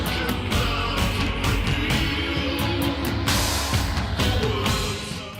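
A song plays with bubbly synths, manipulated vocals and a queasy, warbling feel, a dense continuous mix with choppy rhythmic bursts.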